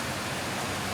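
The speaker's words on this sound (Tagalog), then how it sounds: "Ayun, mas malakas pang ulan." Heavy, continuous rain pours down steadily outdoors, a dense, even hiss with no pauses, loud and close throughout.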